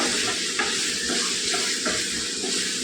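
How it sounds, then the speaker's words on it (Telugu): Ridge gourd fry stirred in a hot pan: a steady, loud sizzle of frying with soft scraping strokes from the stirring, close by and without speech. "బాగా కలిపేసుకుందాం"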